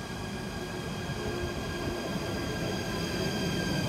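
A Connexxion FLIRT train pulls into Amersfoort Centraal station, a steady loud rumble of wheels and carriages with faint squeal and humming tones throughout, no talking.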